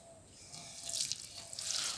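Water trickles and splashes softly from a tap into a container of dry fish feed to soak it, a faint close pouring that grows slightly louder without any voices.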